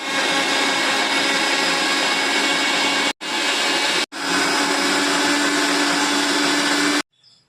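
An electric blender whirs loudly while mixing orange juice, a dense steady drone that cuts out twice briefly before restarting, then stops at the end.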